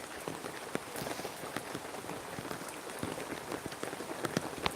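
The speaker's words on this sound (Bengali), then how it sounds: "এই যে রিমঝিম বৃষ্টি হচ্ছে" Steady light rain patters on a surface, with scattered distinct droplet taps over a soft continuous hiss, close by and with no voices.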